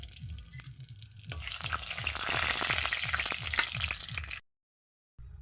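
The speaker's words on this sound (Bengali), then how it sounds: "তো তেজপাতা শুকনো লঙ্কা জিরে ভালোভাবে ভাজা ভাজা হয়ে গেছে" Dried red chillies, cumin seeds and bay leaves frying in hot oil in a kadai, giving a loud, steady crackling sizzle with a rhythmic low scraping of stirring, then breaking off into a brief silence before resuming.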